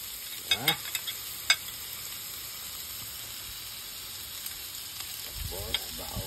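Onion and garlic sizzle steadily in a hot pan while being stirred for pancit, a continuous frying hiss with scattered scraping and clinking of the utensil, close and fairly quiet, with no talking.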